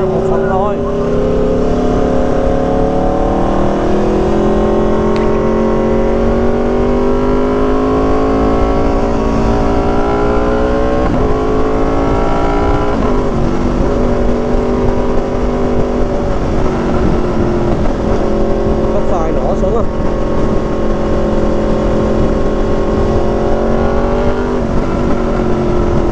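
An Aprilia RSV4 motorcycle engine on the ride from Saigon to Di An produces a loud, continuous drone whose pitch climbs and falls with the throttle through the whole stretch.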